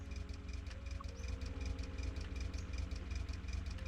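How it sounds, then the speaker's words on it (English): A motorbike engine in The Long Drive idles steadily at night, a low, even, rhythmic thrum with a faint knocking pulse, close and alone without talk. "I'm gonna let it run into the night, get the engine warmed up overnight"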